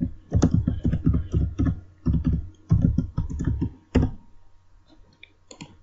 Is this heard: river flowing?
no